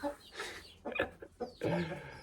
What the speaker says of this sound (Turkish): durun tavuklar çıkmayın kız anam durun